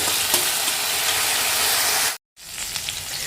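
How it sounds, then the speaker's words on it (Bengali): Potatoes for aloo posto fry in hot oil with a steady loud sizzle while being stirred, then a brief silent gap before the frying sizzle resumes. "আলুগুলো একদম লাল লাল করে ভাজা হয়ে গেছে"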